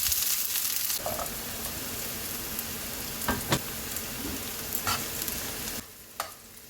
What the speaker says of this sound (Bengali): এদিকে কড়াই গরম করে তেল গরম করে পেঁয়াজ কুচি দিয়ে দেব